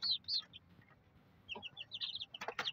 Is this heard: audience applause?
no